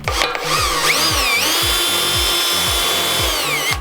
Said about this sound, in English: I'm gonna try and drill some holes with the bit we have